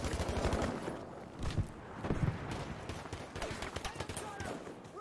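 Rapid bursts of suppressing gunfire in the video game Battlefield V, dense cracking shots in quick volleys, fairly faint, with voices talking over them.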